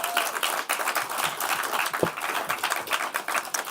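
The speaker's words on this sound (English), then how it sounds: "Let's give them an applause." A live audience applauds the candidates at the close of a Denver city council District 9 runoff forum, a steady broadband patter of many hands at moderate distance lasting throughout, with no voices over it.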